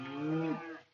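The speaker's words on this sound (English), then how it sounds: "Sorry about the cows if you can hear that." A cow moos once outdoors, a loud, close, drawn-out low bellow that rises slightly and then fades.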